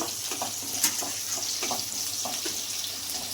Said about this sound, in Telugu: ఆనియన్ బాగా బ్రౌన్ కలర్ వచ్చేంత వరకు వేయించుకున్నామండి